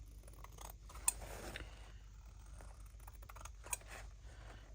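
Scissors snip through fabric for a sewn box pouch made from Sherry Iris packs, giving a few quiet, close cuts with short crisp clicks of the blades and no talk over them.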